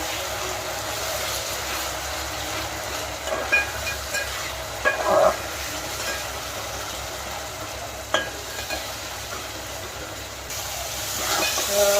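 Bay leaf, cinnamon and ground masala frying in hot oil for a fish curry, a steady close sizzle with a few stirring knocks and scrapes, no talk over it.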